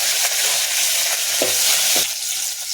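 Curry leaves and green chillies crackle and sizzle in hot sesame oil for mutton curry, a steady bright frying hiss with a couple of sharper pops, close and without talk.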